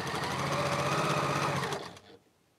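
Sewing machine stitching purple and pink quilt sashing strips with a cornerstone, a fast steady close-up mechanical chatter that stops abruptly near the end.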